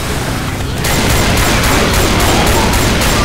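An M60 machine gun in Left 4 Dead 2 fires loud, continuous bursts in a rapid, steady rattle that runs almost the whole time, with no voices.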